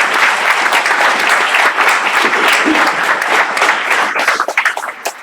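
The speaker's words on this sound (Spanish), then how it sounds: "un fuerte aplauso" A business conference audience on AI in finance applauds for a speaker, a dense, loud wash of clapping that runs steadily and thins into scattered claps near the end.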